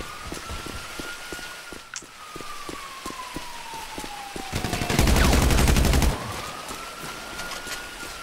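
Gunfire in a GTA V Online deathmatch: rapid trains of shots crackle over a wailing siren whose pitch slides down then back up, peaking in a dense, loud burst of sustained fire near the end.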